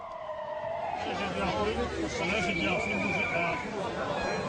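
A police siren wails with a rising and falling tone over a dense, noisy crowd, with voices chattering steadily throughout.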